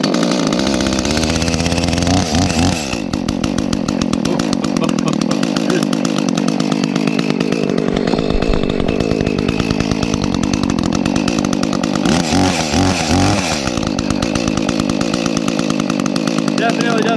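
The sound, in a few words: chainsaw engine running after starting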